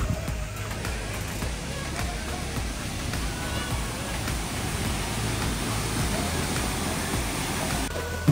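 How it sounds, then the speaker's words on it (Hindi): A waterfall at the BOH tea plantation in the Cameron Highlands sends a steady broadband rush of falling water, heard continuously and fairly close while a voice talks over it. "जी ये वाटरफॉल है"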